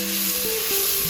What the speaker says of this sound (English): Next I am going to add in the chopped garlic and chopped onions.